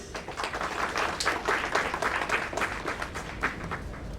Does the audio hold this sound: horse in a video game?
no